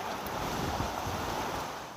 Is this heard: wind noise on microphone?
yes